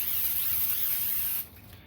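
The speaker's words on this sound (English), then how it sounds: "So now I'm going to spray my waffle maker with cooking spray." A steady hiss of cooking spray blasts onto a waffle maker for over a second, close and fairly loud, then cuts off into quiet room tone.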